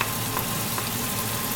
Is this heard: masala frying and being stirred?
yes